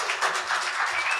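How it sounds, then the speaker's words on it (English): Audience at a storytelling and poetry open mic applauds a performer named Puck, a short, steady wash of clapping without distinct individual claps. "Gave a very, very big round of applause for Puck."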